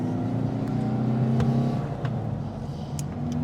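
A 1963 Porsche 356C Sunroof Coupe's engine drones loudly from inside the cabin on a farm road as it pulls through the gears, with a steady low rumble and brief clicks of shifting.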